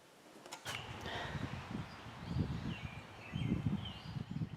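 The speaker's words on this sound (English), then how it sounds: "You hear the birds singing?" Faint birdsong chirps and trills drift over a steady low outdoor rumble after a rain shower, the calls light and scattered, somewhat distant, with no voices.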